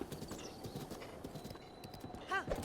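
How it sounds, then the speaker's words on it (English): Horse hooves clip-clopping steadily in The Legend of Zelda: Breath of the Wild, with a brief whinny near the end over a continuous game backdrop. "Horse! My horse!"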